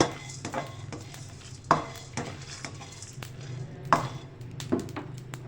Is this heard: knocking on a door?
no